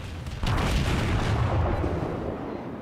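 A warship's main guns in World of Warships fire a salvo with a sudden heavy boom, then a broad rumbling roar that holds loud and slowly fades.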